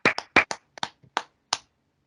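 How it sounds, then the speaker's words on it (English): A few people clap in a sparse, uneven burst of about eight sharp hand claps over roughly a second and a half, close and fairly loud, then silence. "Let's clap it up for Nick."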